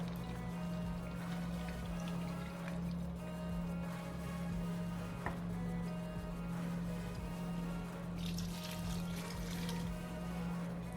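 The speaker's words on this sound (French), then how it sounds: "Je vais mettre un peu d'eau pour rincer mon pot" Water poured from a rinsing jar into a pot of potato stew, a steady continuous pour with a low hum underneath and no talking.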